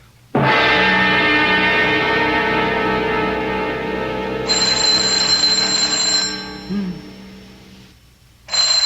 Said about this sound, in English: Oh, it's 3 a.m. Who can be calling?